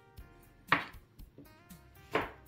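A knife cuts through fresh fruit and vegetables, such as peeled pineapple, on a board before they go into a cheap slow juicer, giving a few sharp, close, irregular chopping knocks with quiet pauses between them.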